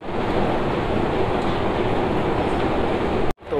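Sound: metro train at a station

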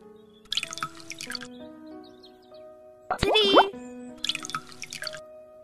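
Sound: water poured from bottles into a bowl

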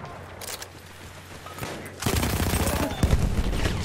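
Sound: Automatico Factory machine gun firing in video game Battlefield 1

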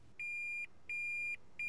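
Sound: Toyota Prius 2011 reverse shift buzzer

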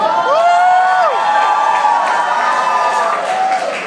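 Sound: audience applause at award ceremony

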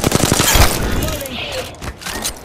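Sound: gunfire in the video game Apex Legends

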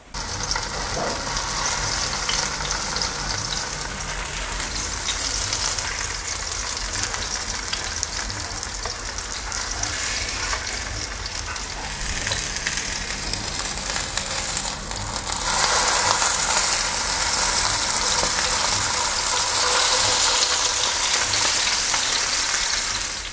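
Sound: salmon fillets frying skin-side in a pan

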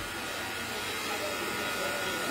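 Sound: vacuum pump running for AC repair

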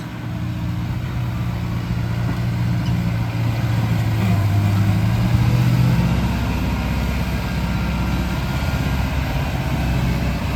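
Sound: Fendt 313 tractor levelling a wheat field

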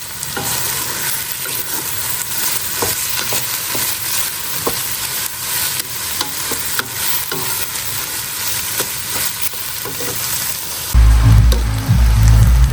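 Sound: stir-frying rice with vegetables and egg in a pan

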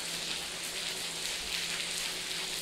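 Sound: rain

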